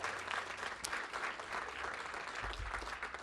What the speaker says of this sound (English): Let's give a round of applause to Community Build, our partner in this project as well.